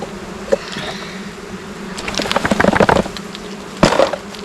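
Honeybees buzz steadily in an opened beehive with empty frames during an inspection, a close, busy hum with scattered louder passes as individual bees fly near.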